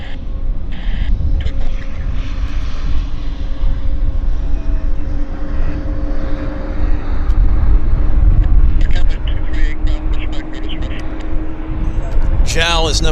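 A jet aircraft at Vancouver airport, a loud broadband engine roar that swells and holds through the whole stretch, heard under someone talking.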